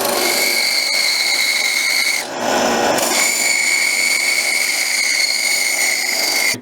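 A power drill with a 3/4-inch flat spade bit boring into wood, a loud continuous whining tone that dips briefly after two seconds, then resumes steadily, with no voices.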